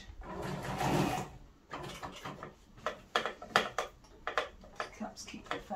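A domestic sewing machine top stitching close to the edge of a fabric peg bag, running in short bursts of rapid mechanical clatter with pauses, near and moderately loud.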